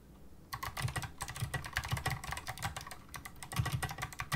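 Fast, steady typing on a Zslane Mercury Rocketeer mechanical keyboard, close and crisp, with a dense run of clacking keystrokes and one brief pause.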